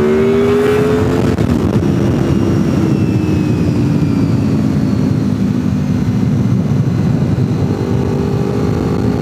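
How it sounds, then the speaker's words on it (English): A 500-horsepower Ford Mustang GT held at full throttle, a loud, continuous engine roar with rising and falling harmonic whine, close and alone for the whole stretch. "I'm in a Mustang GT with 500 horsepower"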